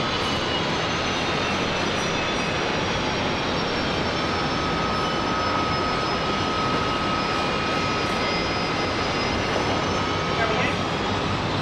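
A Korean Air jet rolls for takeoff on runway 19 left at Brisbane Airport, its engines a loud, steady, broadband roar that holds through the whole stretch without letting up.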